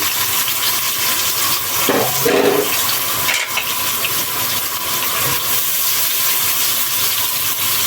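Onions dropped into hot oil in a home kitchen pan for an egg and potato curry, giving a steady broadband sizzle and hiss that swells briefly with a few louder spatters, no voices.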